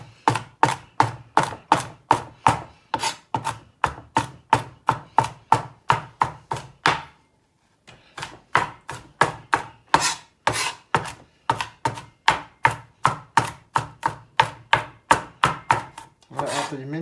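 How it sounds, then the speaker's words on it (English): Rapid, steady knife chops mince garlic on a cutting board with a big knife, a close, loud rhythmic tapping run that pauses briefly midway before resuming. "After you mince the garlic, put it on the side."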